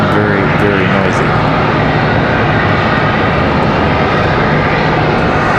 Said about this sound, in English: Next departure off to Omaha, American at 3153, 737-8.